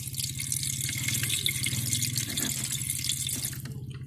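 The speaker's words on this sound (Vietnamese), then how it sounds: "vặn để cho nước nó chảy ra nhé" Water pours steadily out of a drain valve set in the bottom of a homemade foam-box mini aquarium in a garden, a continuous close splashing stream over a low hum, with no talking.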